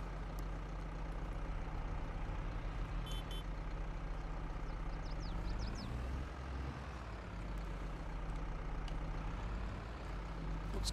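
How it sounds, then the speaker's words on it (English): Trucks pass near a freeway entrance and exit in Farming Simulator 22, a continuous low engine rumble with a brief higher squeal or beep midway and a swelling pass-by around the middle. "A lot of traffic here."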